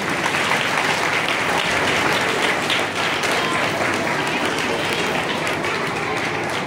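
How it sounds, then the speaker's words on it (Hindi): An audience applauds loudly at a community gathering as a guest is welcomed to the stage, sustained thick clapping that holds steady for several seconds with a brief dip near the middle. "जोरदार तालियों से"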